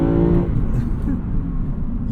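A Lexus IS500 with a V8 engine, a deep engine rumble that rises briefly and then settles into a steady low drone inside the car, with a short voice at the start.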